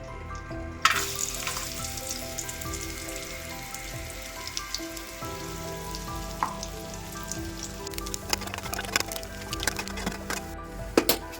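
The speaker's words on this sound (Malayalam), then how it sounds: "തേങ്ങാക്കൊത്ത് വറുത്തെടുക്കാം." Coconut pieces fry in ghee or coconut oil in a pan, giving a steady crackling sizzle from start to end, with occasional stirring clatter and sharper pops near the close.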